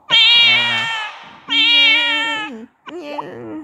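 A cartoonish cat meows three times in the video game Silly Royale, loud and close: two long drawn-out calls and a shorter, wobbling third, alone with no talk over them.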